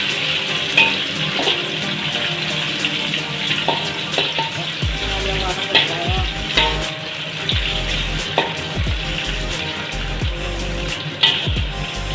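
Onions and dried red chilies sizzle steadily in a hot pan while cooking for a Tamil greens kadayal, with occasional scraping and stirring knocks, close and continuous without talk.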